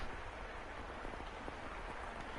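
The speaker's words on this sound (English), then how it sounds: "The rain just won't let up." Steady, dense rain from The House in Fata Morgana video game hisses evenly throughout, a constant wash of falling water with no breaks or distinct drops.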